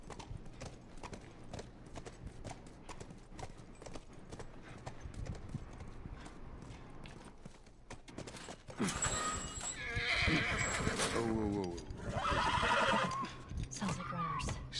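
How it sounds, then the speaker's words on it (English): A horse in The Last of Us Part 2 video game: steady clip-clop of hooves throughout, followed by loud, close neighing and whinnying near the end, with game voices in the mix. "Stay with the horse."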